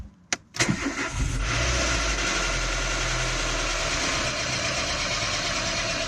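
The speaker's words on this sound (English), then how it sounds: "I just want to show you quickly what it sounds like when it starts up" A Renault Megane engine cranks with a few sharp catches, then fires up rough and settles into a loud, steady idle, close by.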